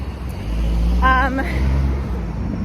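A Coca-Cola truck rolls by on a tree-lined street in Daejeon, Korea, a steady engine rumble building and fading over about a second, with a brief mechanical whine mid-pass and someone talking nearby.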